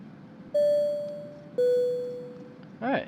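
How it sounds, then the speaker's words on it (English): A flight simulator notification chime plays two clear descending tones of ding-dong type about a second apart, each ringing out and slowly fading, followed by a short brighter sound at the end. "we're going to get a notification here for the hold instructions in just a moment"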